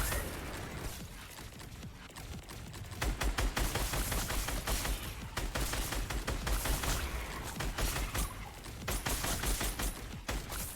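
Gunfire in Fortnite during a competitive warmup routine: rapid bursts of sharp shots crackle in quick clusters, sometimes in longer sustained volleys, with no voices.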